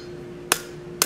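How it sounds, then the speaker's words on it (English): A hammer strikes a forged metal oak leaf curtain tie back twice, each blow a sharp, bright metallic ring about half a second apart over a faint steady hum. "Hammer that straight."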